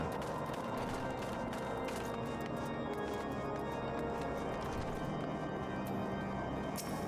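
Horse hooves clip-clop steadily in a fantasy role-playing video game, an even trotting rhythm set against constant ambient game sound with no talk.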